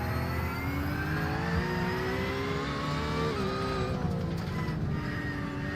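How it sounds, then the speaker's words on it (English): A steady high-pitched whine of a race car's straight-cut transmission gears at Tsukuba circuit rises and falls in pitch over a constant engine drone, loud and continuous. "It's just it's the straight cut gears that are whining in the transmission."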